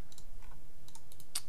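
Computer keyboard keystrokes during a software demo: a handful of light, quick clicks spread across a brief moment, close and clear, with no talking.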